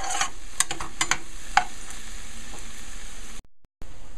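Saltfish fries in a pan, giving a steady soft sizzle with a few light clicks and taps, then a brief drop to near silence before it resumes.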